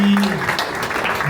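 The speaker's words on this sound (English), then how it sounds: "So a round of applause one more time for you" Audience applause at a one-year anniversary celebration for the Colorado Agave Collective, a short burst of clapping with a voice briefly over the start.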